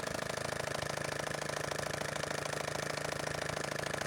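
An old motorcycle engine runs steadily at around 2000 to 5000 RPM, a fast even mechanical drone with a rattly pulse, moderately faint and unbroken by any talk.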